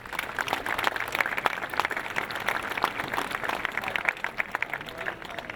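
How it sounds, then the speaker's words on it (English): An audience at a high school opening ceremony applauds in a sustained round of dense, crackling clapping, with faint voices mixed in. "Can we have a round of applause for them, please?"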